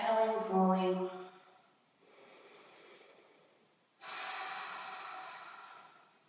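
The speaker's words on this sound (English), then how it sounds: "let's really breathe deeply into the sides of the rib cage" Slow, deep breaths during a gentle morning yoga session in tabletop position, with a soft breathy sigh, a quieter airy stretch and then a fuller, louder exhale drawn out over several seconds, close and unaccompanied.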